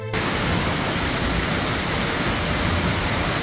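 Yeogung waterfall on Juheulsan mountain roars as a steady, loud, close wash of falling water, unbroken and even throughout with no voices.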